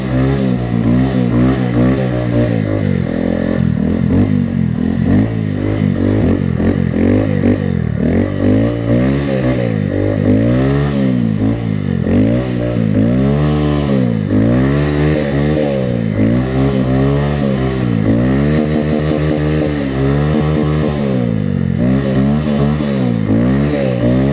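A motorcycle drifts on a snowy road, its engine revving in repeated swooping rises and falls, loud and close throughout with constant throttle changes.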